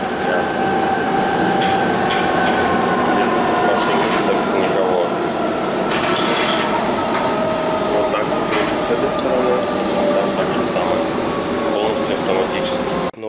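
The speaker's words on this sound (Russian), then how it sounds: "А этот поезд метро абсолютно автоматизированный," A driverless automated metro train in Milan runs with a steady loud rumble and whining motor tone, wheels clattering over the track throughout, with faint talk underneath.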